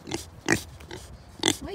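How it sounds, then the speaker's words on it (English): Several pigs grunt and snort on a small farm, short loud bursts in an irregular rhythm with quieter snuffling between them, close by. "Hi, piggies."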